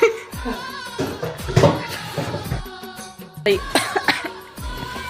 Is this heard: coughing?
yes